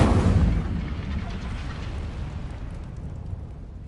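Incendio fire spell cast in the video game Hogwarts Legacy, a loud burst of roaring flame that hits hard at the start and then trails off into a fading rumble.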